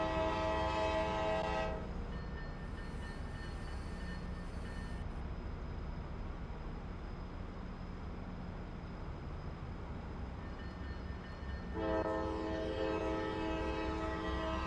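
A train in the Transport Fever video game runs with a steady rumbling roll, and a sustained, horn-like tone rises at the start and again near the end.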